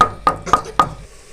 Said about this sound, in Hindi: आराम आराम से हम इसको कूट लेंगे।